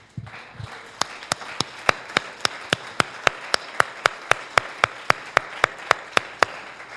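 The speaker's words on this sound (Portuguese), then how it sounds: "Dê uma salva de palmas para Jesus." Steady rhythmic clapping in unison at a church worship service, sharp even beats about three per second, close and clear, continuing without pause.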